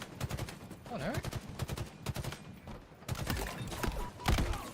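Rapid video-game gunfire crackles in dense bursts and single sharp shots, with sniper rifle fire among the volleys, moderately loud throughout, with a voice talking over parts of it.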